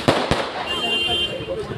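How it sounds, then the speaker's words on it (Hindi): Fireworks and firecrackers go off at a political victory celebration, two sharp cracks followed by a dense crackling hiss and distant bursts, mixed with crowd noise and voices. "आकर यहाँ आतिशबाजी करने लगे हैं"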